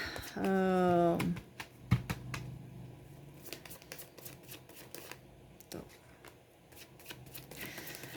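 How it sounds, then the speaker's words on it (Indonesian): Tarot cards being shuffled, a brief riffle with a rising fluttering burr near the start, followed by soft card handling and tapping while someone speaks throughout. "Kita kocok kartunya dulu."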